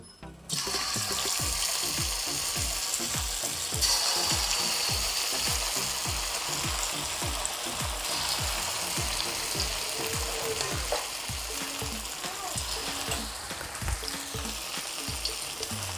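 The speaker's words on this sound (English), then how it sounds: "the oil is hot, so we'll start frying the cauliflower." Cauliflower pakoda (street-style gobi fritters) frying in hot oil, a loud, steady crackling sizzle that runs continuously and up close, with no talking.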